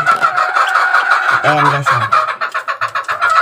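A laying hen, raised from a chick, clucks in short, close bursts with a brief low croon in the middle, while someone talks over much of it.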